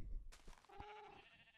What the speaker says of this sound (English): That's the sheep farm.